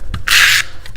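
A single short scraping rub from burnishing a paper card for a Halloween-themed greeting card, brisk and close, lasting about a third of a second between faint rustles.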